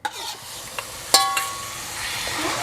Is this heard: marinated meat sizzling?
yes